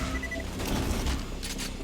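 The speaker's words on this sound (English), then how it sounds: "I walked right next to my own fucking grenade." A player's own grenade explodes close by in Borderlands: The Pre-Sequel, a dense burst of blasts and crackling gunfire that fills the whole short moment at steady, loud volume.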